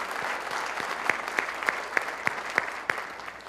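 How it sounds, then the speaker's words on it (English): A luncheon crowd at a chamber of commerce county address applauds county employees with steady, moderately distant clapping, some sharper claps standing out at a regular pace throughout. "Let's give them a round of applause for all of our employees here."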